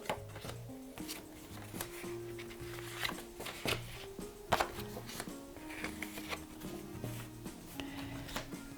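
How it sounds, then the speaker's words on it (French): Paper answer cards and addition cards being shuffled and laid on a table, a run of soft, quick rustling and tapping sounds, close and fairly quiet, with no talking. "on va mélanger cette fois-ci les cartons réponses et les cartons addition, qu'on va aller placer sur la table"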